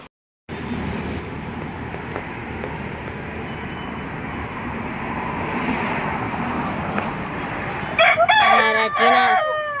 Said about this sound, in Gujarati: કુકડો જો આવી ગયો છે.